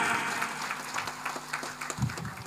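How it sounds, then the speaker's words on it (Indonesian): Applause from an audience at an Indonesian Islamic sermon, a brief scattered patter of claps over a soft crowd wash, fading at the end as a low voice begins. "Tepuk tangan."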